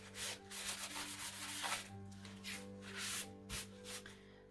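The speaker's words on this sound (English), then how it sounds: "So I'm going to lift this up and brush off the excess." Excess pastel chalk is brushed off stamped paper in a series of short, soft swishing strokes, close and fairly quiet, with faint tonal background underneath.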